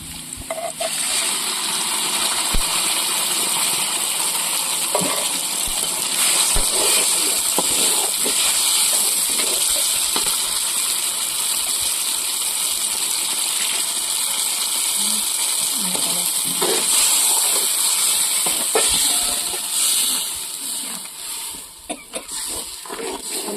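Loud, continuous sizzling hiss of wet ground masala paste hitting hot oil for fish curry, crackling and spitting steadily before easing toward the end.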